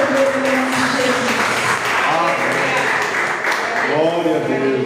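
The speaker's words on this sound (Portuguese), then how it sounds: "Aplauda o Senhor, que é digno de honra e glória de todo o nome de Jesus." Church congregation clapping during worship, a continuous wash of applause mixed with loud singing or music and voices, steady and fairly loud throughout with the claps blended underneath rather than standing out.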